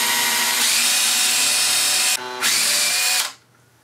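A power drill with a dying battery whines steadily at close range, briefly dropping in pitch mid-run before winding down and stopping.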